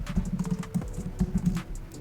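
Typing C code on a computer keyboard, a run of soft, close keystrokes in an uneven rhythm with a low background hum and no voice.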